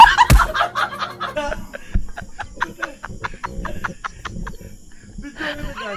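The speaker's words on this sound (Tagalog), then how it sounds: "Pinalis ko yung manok." A chicken clucks in a string of short, sharp, close calls with irregular pauses, loud and choppy, with brief human chuckles and voices mixed in.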